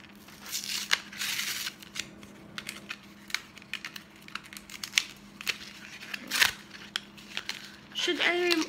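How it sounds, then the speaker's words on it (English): Careline Kiss Sticks lipstick gets unboxed, with close crinkling and tearing of packaging and scattered clicks and taps, plus a louder rustle near the end. A person talks now and then. "bubuksan ko siya from the packaging para alam nyo talaga na it's brand new"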